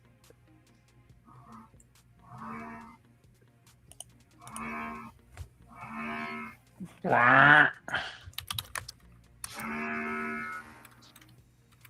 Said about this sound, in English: that's a weed eater outside, I guess